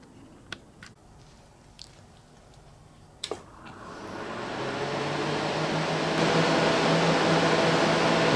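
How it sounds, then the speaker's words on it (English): Ampex VPR 200 composite NTSC digital broadcast VCR powering on: a few sharp relay-like clicks, then a broadband whir of fans and motors swells and settles into a steady loud hum. "Machine's powered on and booted up."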